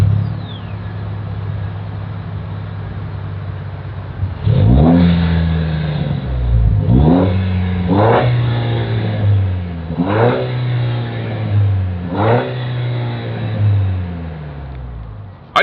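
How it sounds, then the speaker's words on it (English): A 2025 Toyota Tacoma TRD Sport revs through its single exhaust, idling steadily before four or five distinct throttle blips rise and fall in turn, loud and close with no talk. "As always, here is that exhaust clip."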